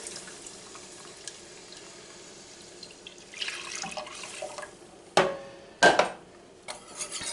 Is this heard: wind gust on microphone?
no